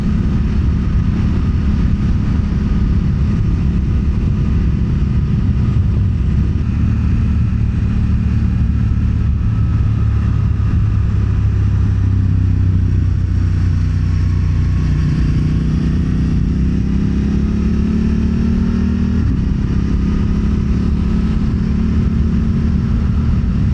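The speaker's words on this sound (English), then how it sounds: "this is a nice little stretch of road. It has some nice curves on it. And this bike will handle curves very nicely." A Suzuki V-Strom motorcycle rides along a curvy road, its engine droning steadily and loudly throughout, with pitch rising and falling as it works through the bends and steady wind rush underneath.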